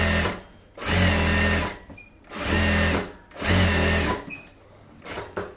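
An electric sewing machine runs along the edge of a blouse in three long, steady bursts of rapid stitching, close and loud, with short pauses and a faint click between runs.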